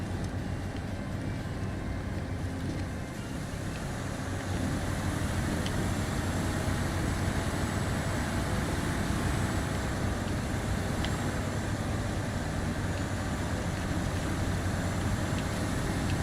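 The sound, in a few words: truck engine driving in the video game Snowrunner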